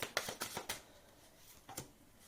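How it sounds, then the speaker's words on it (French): Tarot cards laid out on a table, with a quick cluster of soft flicks and slaps followed by a pause and one more card snap, faint and close. "on va mettre un petit peu d'autres cartes sur le voyage"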